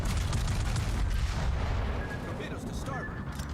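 Torpedo explosions in the naval battle game World of Warships make a heavy, continuous booming rumble that fills the whole moment and eases slightly near the end.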